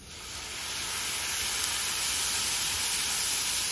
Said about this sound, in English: let's add our boiling water.